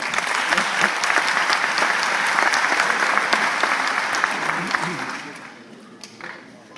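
Sustained applause from a lecture audience, dense and steady for about five seconds before thinning out and fading toward the end.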